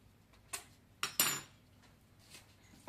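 A utensil scrapes and clinks against a bowl while strong mustard and whole-grain mustard are mixed for homemade mayonnaise, a few short, close metallic strokes separated by quiet gaps.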